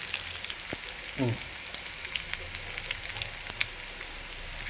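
Curry leaves sizzle in hot oil on low heat while tempering mustard for a bitter gourd and mango curry, a steady soft frying hiss with faint crackles throughout.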